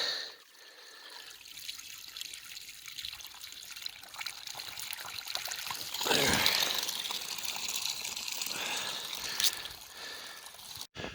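Moving stream water trickles and gurgles nearby in a cold November setting, a continuous watery babble that swells into a louder gush midway before settling back.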